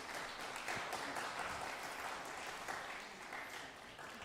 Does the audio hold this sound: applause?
yes